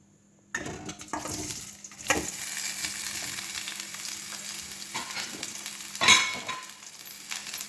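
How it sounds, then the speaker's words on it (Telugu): Bitter gourd pieces fry in a couple of spoons of oil in a pan, giving a moderate, continuous sizzle that starts abruptly. Occasional utensil scrapes and a brief clink near the end mark the stirring. "ఇందులోనే మనం కాకరకాయలు కూడా వేయించుకుందాం"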